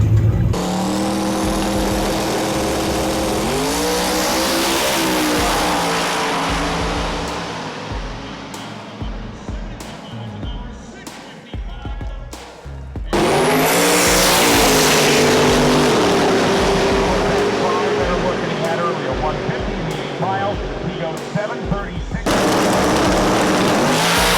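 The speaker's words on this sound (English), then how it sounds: "We're getting ready to start the day's action off with some fast cars." Roaring engines of drag racing cars accelerating hard down a drag strip at Drag Week, loud and sustained, with a second car's roar following after a brief lull.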